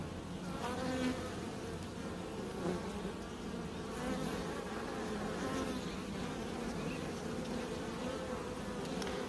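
Honey bees buzz continuously at a hive box suspected of a Cape honey bee (Capensis) infestation, a dense close droning hum with individual bees flying past, no talk.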